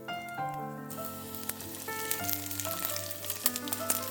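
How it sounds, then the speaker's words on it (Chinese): The ends of rice-paper-wrapped sausage skewers fry in oil with a bright, crackling sizzle that keeps going. A melodic music track plays underneath, and no one speaks. "把2头边边部分呢也放到油里面煎一下"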